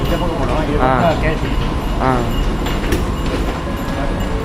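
A metro train rumbles and rattles steadily, close and loud, while people talk over it in a few short phrases.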